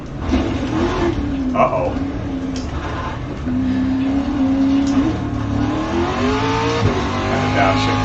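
Race car engine in iRacing rallycross, revving loudly with pitch rising and dropping through gear changes, a downshift among them, while someone talks briefly over it.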